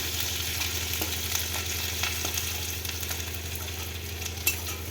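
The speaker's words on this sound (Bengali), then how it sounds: "আদা দিচ্ছি আর একটা তেজপাতা দেব তেজপাতা দেব আর তেলের উপর একটু ভেজে নেবো" Ginger and a bay leaf fry in hot oil with a steady, soft hiss and crackle, broken by faint scattered pops and light utensil taps, under a low constant hum.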